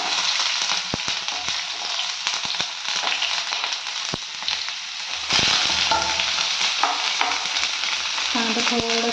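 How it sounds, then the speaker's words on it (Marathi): Chopped onion frying in hot oil in a pan, a steady loud sizzle with crackles and stirring scrapes throughout, the hiss swelling louder partway through. "त्यात कांदा घालते."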